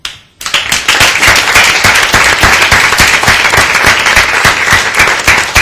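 Sustained applause from a television studio audience, dense rapid clapping at steady loudness for several seconds, rising right after a brief quiet start.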